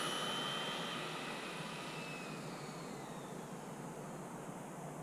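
Traxxas Drag Slash RC car tires spinning hard, a sustained high-pitched whirring whine that fades gradually over several seconds, fairly loud and alone with no voices.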